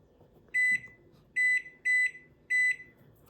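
A microwave oven being set to its tandoori grill mode gives four short, clear electronic beeps, close by and evenly spaced, in an otherwise quiet room.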